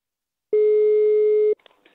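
A telephone line tone heard while placing a call: one steady, loud electronic beep lasting about a second, followed by faint line noise, with no talking.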